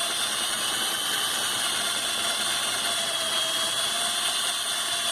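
A power drill drills out a rivet on a 1990 Volvo 740 sedan door, giving a steady close-up high whir with a grinding, ratcheting texture held for several seconds.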